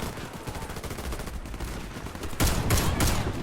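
Gunfire in the shooter game Warface: a steady crackle of rapid shots that swells into louder, denser bursts toward the end, close and continuous.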